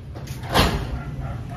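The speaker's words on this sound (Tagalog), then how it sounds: "pinagsarahan na ako ng pinto" A house door swings shut with a single soft thud and slide, close by, over a low steady background hum.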